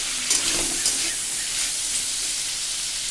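Jackfruit seeds and yardlong beans fry in a pan with a loud, steady hissing sizzle and a couple of soft stirring knocks near the start.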